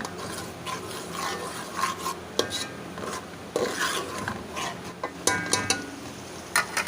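Finely crushed garlic and green chilies fry in a pan for chicken biryani, giving a steady close sizzle broken by scraping and stirring of a utensil against the pot.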